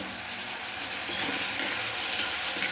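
Onion and tomato, added after cumin, cooking in a pan on the stove with a steady close sizzle, a few brief spatula stirring scrapes rising over it.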